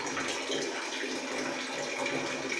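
Water gushes steadily from a tap fed by a repaired instant electric geyser just after it is switched on. The flow is continuous and hissing, fairly close, with no talk.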